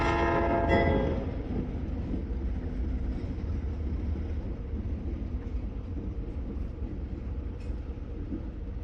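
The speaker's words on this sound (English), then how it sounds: "I was racing the train" A train rumbles past close by, a steady loud roar of wheels on track with a brief horn-like tone at the start.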